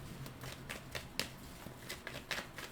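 Tarot cards shuffled by hand, a rapid series of crisp riffling slaps and flutters close by, quiet and alone.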